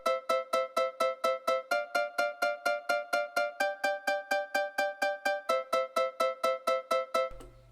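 A plucky synth pattern of evenly repeated short notes with bright harmonics, the pitch shifting partway through, made with a free plugin for a luan-style lead in an FL Studio remake; steady and alone, ending abruptly.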